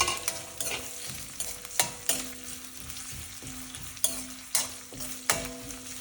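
Onions, curry leaves and green chilies fry in a pan with a constant close sizzle, broken by regular scraping knocks from a spoon stirring roughly every second.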